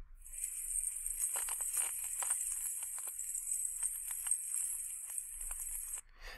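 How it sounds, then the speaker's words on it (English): Native American pellet bells are shaken steadily, giving a bright, continuous metallic jingle and hiss close by, with a few soft rattling bursts and no talking until it stops abruptly. "So the first are pellet bells."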